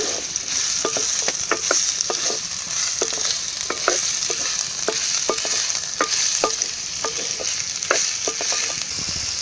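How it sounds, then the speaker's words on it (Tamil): Chopped bottle gourd is stirred into cowpeas sambar in a hot pan, with a steady sizzle broken by frequent scraping clicks of the spoon against the metal. "நம்ம கட் பண்ணி வச்சுருக்கிற சுரக்காயை இதில் ஆட் பண்ணிக்கலாம் நல்லா எல்லாம் மிக்ஸ் ஆகிற மாதிரி கிளறி விட்டுருங்க"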